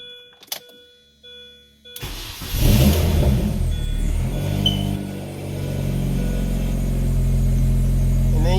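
An R53 Mini Cooper engine cranks and fires after a few seconds of quiet electronic chimes, then settles into a loud, steady idle close by.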